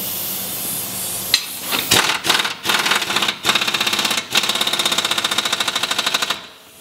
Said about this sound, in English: if you're using power tool, make sure you turn it about three or four turns before you apply the power tool